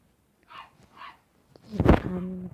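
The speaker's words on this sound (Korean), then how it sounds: "우리 강아지 정말 많이 짖네요." A pet dog barks and yips indoors, two short higher calls followed by a louder, sharper bark with a whining tail, close to the listener.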